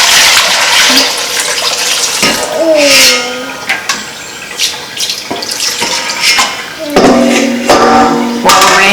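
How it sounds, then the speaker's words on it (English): Milk is poured through a strainer into a bowl too small for a whole gallon, with loud splashing, bright metallic clinks and knocks of kitchenware, and no talking. "We're just going to pour the milk through the strainer"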